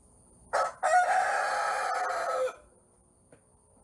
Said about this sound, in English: Now, a hen's not supposed to crow.